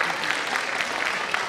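Brief burst of audience clapping at a college hostel day event, a dense, even patter of many hands in a hall, lasting about a second and a half.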